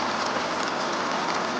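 Heavy rain pours down in a dense, steady hiss that fills the whole moment, close and loud, with no voices.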